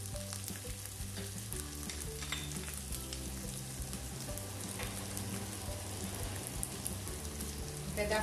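Chopped onion and garlic cloves sizzle steadily as they fry in a pan for a sausage pasta dish, a dense, continuous crackle close up with occasional stirring.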